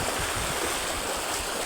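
Floodwater released from a dam rushes past in a steady, dense roar, with a broad hissing churn that fills the space close by.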